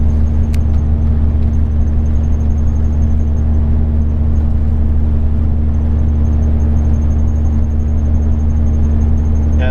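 Ford E350 van with a V10 engine climbing a mountain grade in overdrive, heard as a steady, loud, low engine drone and road rumble, unbroken throughout.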